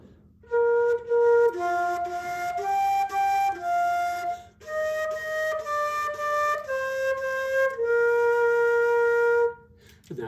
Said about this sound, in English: And I'll play Twinkle Twinkle, should sound like this